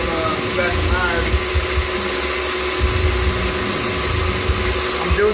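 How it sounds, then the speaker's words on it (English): Milling machine plunge-machining knife parts, a loud steady mechanical whine with constant tonal hum and low rumble, continuous and close, shop talk audible underneath. "I'm doing some plunging right now, some plunge machining."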